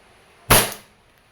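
A DB 1911 MEU airsoft pistol fires once, a single sharp, loud crack close by with a short fading tail, surrounded by near silence.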